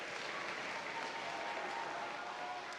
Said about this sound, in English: I'm going to invite you all to give them a round of applause